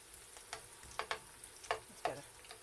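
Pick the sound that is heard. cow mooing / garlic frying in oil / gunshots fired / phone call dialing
garlic frying in oil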